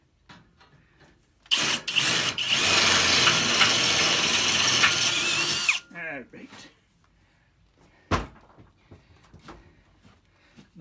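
Air impact wrench driving a bolt while welding extra supports onto a Harbor Freight lift table in a shop, one loud continuous hammering burst of about four seconds, followed by clanks and brief mechanical clicks.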